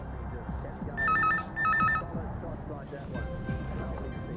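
A telephone rings on an outgoing call in a bar, two short bursts of electronic trilling heard faintly over background chatter and room noise.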